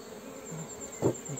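Honeybees from a small swarm in a mini-plus hive buzz steadily nearby, with a brief louder burst of wingbeats as one passes close.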